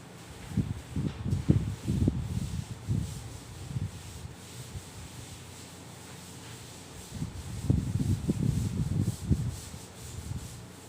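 A classroom board is wiped clean by hand in two bursts of brisk, close rubbing strokes, separated by a quieter pause in the middle.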